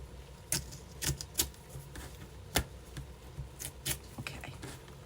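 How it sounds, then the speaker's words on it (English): Paper scraps are torn by hand up close, a series of crisp, dry bursts of varying strength spaced irregularly over a quiet background. "Let me just rip this one."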